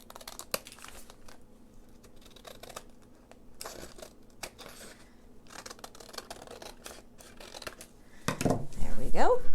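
Scissors trim a paper bag for a craft organizer, giving faint intermittent snips and paper rustles up close, then louder crinkling and handling noise near the end.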